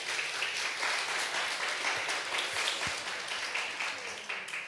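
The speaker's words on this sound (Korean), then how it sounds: "박수 한번 쳐주세요." A church congregation at a revival service claps together in a dense, moderately quiet burst, with a few louder individual claps standing out, fading gradually over several seconds.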